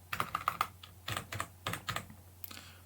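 Computer keyboard typing while coding a Telegram bot: quick clusters of close, crisp key clicks with short pauses between bursts.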